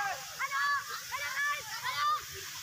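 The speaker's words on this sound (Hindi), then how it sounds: "ये पानी गिर रहा है ना नीचे" Water pouring down at an ice factory makes a steady, close splashing rush that runs throughout, while someone talks over it.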